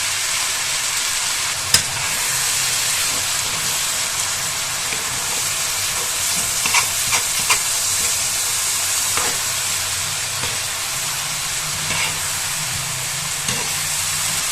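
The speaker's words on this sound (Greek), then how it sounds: "Σβήνουμε με 50 γραμμάρια κρασί." Wine splashed into a pan of frying vegetables with tomato paste, giving a steady broad sizzle with occasional stirring scrapes and clicks, close and continuous throughout.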